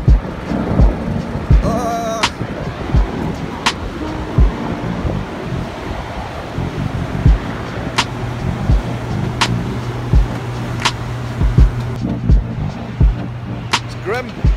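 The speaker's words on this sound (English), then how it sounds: "all of a sudden this massive rainstorm has come" Loud, continuous rush of a heavy rainstorm in Dublin with a low rumble underneath, occasional sharp clicks, and a voice speaking over it early on.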